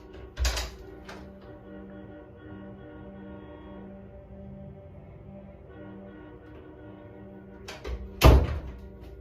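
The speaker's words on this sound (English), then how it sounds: "Doors closed." Indoor door swinging shut, a solid thunk near the start and a louder, sharper slam near the end, separated by a quiet room hum with no talking.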